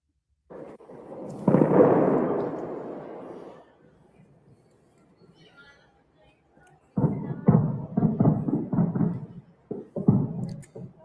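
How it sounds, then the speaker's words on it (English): Explosions from night airstrikes over Tehran: one loud, rumbling blast that slowly decays, a quiet pause, then a run of heavy, closely spaced booms and thuds. "it's mostly sound of explosions"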